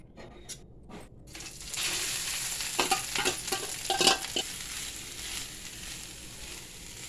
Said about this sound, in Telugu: కలర్ చేంజ్ అయ్యేదాకా కొంచెం నెయ్యి వేసుకొని ఆ కలర్ మారేదాకా కొంచెం వేయించుకోండి